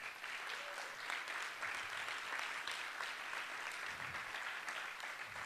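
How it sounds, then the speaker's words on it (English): An audience at the GSVC 2017 Quick Pitch Competition applauds the event organizers with steady, dense clapping that fills the room at an even level throughout. "Yeah, clap them up."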